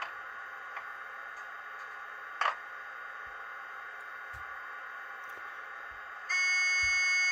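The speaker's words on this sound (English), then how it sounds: "Got this beeping noise" A Roco E193 Vectron model train gives a steady, faint electronic tone humming in the background, with occasional soft ticks, before a louder, sustained warning beep sounds at the end.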